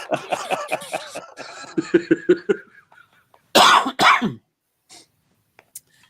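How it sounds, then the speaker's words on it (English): Speech gives way to two loud, harsh coughs close to the mic, followed by a few faint clicks in near silence. "I apologize profusely for my coughing."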